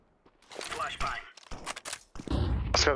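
In a first-person shooter, a flashbang and sharp bursts of gunfire crack in quick succession, mixed with game sound effects.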